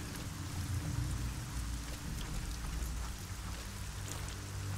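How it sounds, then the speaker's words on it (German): Steady, dense rain pours in the fantasy video game Arcania, a constant even hiss with a low rumbling undertone that holds unbroken throughout, with no voices. "Der Regen nervt noch."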